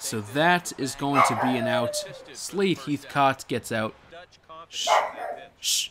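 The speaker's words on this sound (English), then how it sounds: "Sorry, that's my dog." A household dog barks and yips in the background, mixed under a man's steady baseball video game commentary as he hushes it.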